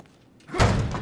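A door opening in the horror game The Evil Within, a short, close creak-and-thud that swells after a quiet moment.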